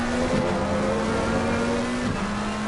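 A McLaren race car engine in Assetto Corsa Competizione, heard on board at Silverstone, holds a steady loud drone with two quick dips between gears, close and continuous.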